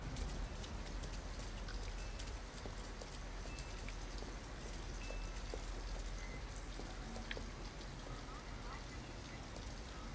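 Steady rain falls in the video game Detroit: Become Human, a dense even patter of drops across a surface that never lets up, with faint talk underneath.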